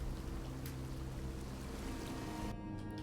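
A video game waterfall rushes steadily, a dense, continuous roar of falling water at close range filling the whole clip with little variation.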